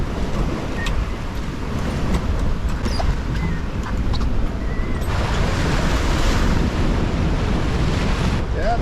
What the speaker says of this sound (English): the sea state definitely picked up